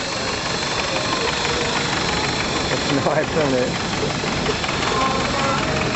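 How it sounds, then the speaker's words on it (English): A vintage tractor engine chugs steadily at a rally in Innishannon, a continuous knocking run close by, with a person briefly talking over it. "Great variety of tractors here today and all"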